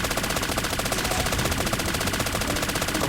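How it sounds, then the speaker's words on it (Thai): An M13 rifle fires at a helicopter in the Call of Duty Mobile video game, with loud, rapid automatic gunfire continuing without a break for the whole stretch. "กระสุนเยอะไม่เป็นไรยิงฮอก่อนแล้วกัน"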